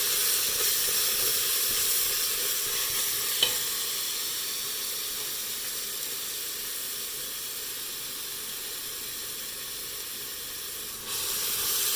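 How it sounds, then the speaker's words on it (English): Onions sizzle in hot oil in a pan while being stirred for dal palak, a steady close hiss with one small clink of the spoon early on and no talk. "Then add onions, mix right away."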